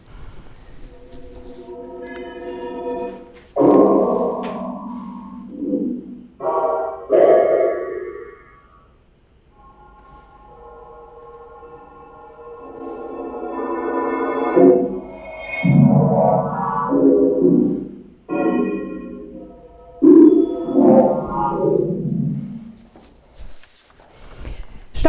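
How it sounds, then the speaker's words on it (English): Stockhausen's early electronic piece Studie II plays: clusters of stacked sine-tone mixtures swell and fade in blocky, reverberant bursts, separated by short near-silent gaps, with no voices over them. "we're just going to listen to an excerpt from Studio 2 now, and this is one of the only electronic pieces from this era that has a score."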